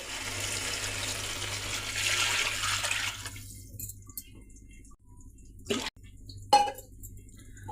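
Water pours in a steady stream into a cooking pot for prawn biryani for about three seconds, then stops, followed by a few clanks and soft knocks nearby.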